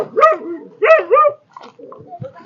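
A dog barks in a village setting, two loud close barks followed by softer yips and whimpers, with no talk over it.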